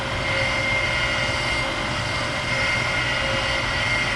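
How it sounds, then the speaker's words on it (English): A milling machine cuts down a warped throttle body, giving a constant loud mechanical whir with a steady tonal hum throughout. "we are milling down this warped up throttle body"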